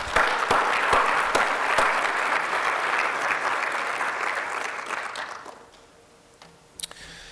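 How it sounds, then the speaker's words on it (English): Conference audience applauding at the opening of the Big Data 2014 forum: a steady wash of many hands clapping that fades out after about five seconds, leaving near silence and a couple of stray claps. "So please join me in giving them a warm round of applause for all their hard work"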